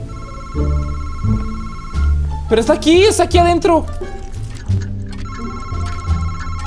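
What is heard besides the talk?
telephone ringing in horror video game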